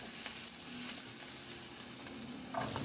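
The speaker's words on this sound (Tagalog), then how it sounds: "Igisa ko na rin yung bawang" Garlic sautés in a reduced amount of oil in a pan, a close, continuous sizzle with faint stirring noises throughout.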